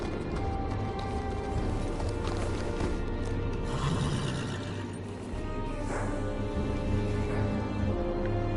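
A horse whinnying over steady clip-clopping hooves in the Game of Thrones video game, dense and continuous beneath a droning background bed, close and fairly loud throughout.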